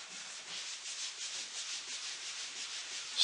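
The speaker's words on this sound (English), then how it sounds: "So what I've got is just some burlap, and using circular motions," Burlap rubbed in circular motions across a mahogany dresser top to work grain filler in gives a steady, soft, pulsing scratchy rub, close and continuous.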